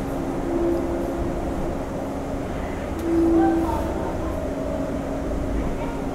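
Inside a Pune Metro train between Ruby Hall and Ramwadi, a steady cabin rumble holds throughout with faint humming tones and a slight swell midway.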